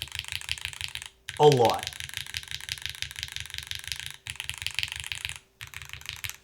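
Rapid clicky keystrokes from a Pangea Mini prototype keyboard fitted with alpha switches, clean and close, running steadily with brief pauses while a voice speaks over the typing.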